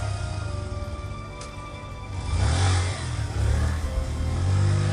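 A motorcycle engine revs and rumbles close by on a dark, rainy night, growling louder in two surges over a steady low drone.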